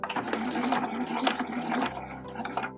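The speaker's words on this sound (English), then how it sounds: "So we'll do a little back stitch at the beginning" A sewing machine runs a short back stitch at the start of a seam on a fabric tube for a giant scrunchie, its steady close mechanical whir with rapid needle ticks briefly pausing and shifting as the direction reverses.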